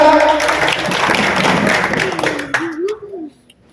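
A crowd at a local political gathering in Bhadra claps loudly in a dense burst of applause that fades out after a couple of seconds, and a voice is heard as it dies away.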